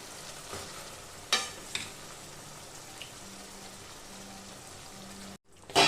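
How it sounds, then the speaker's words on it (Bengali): Baked chicken pieces sizzle gently in a masala gravy as a utensil knocks against the pan a couple of times, followed by a brief silence and a louder burst of frying near the end, with no talking. "এবার আমি এটাকে ভালো করে কষিয়ে নেব"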